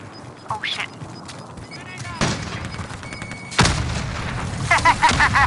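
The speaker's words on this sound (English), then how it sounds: "Is that you shooting a launcher?" A launcher fires in a shooter game with two heavy booming blasts, each followed by a rumbling tail, alongside scattered smaller game sounds and a brief quacking chirp.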